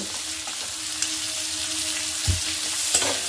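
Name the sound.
frying chopped vegetables for quinoa khichdi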